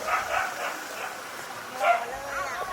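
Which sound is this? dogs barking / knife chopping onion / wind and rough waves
dogs barking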